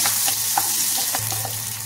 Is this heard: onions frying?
yes